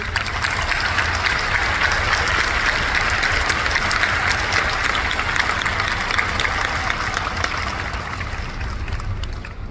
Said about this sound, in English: Let's give them a rousing round of applause to show how much you appreciate it.